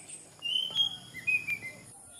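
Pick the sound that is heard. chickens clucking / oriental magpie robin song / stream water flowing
oriental magpie robin song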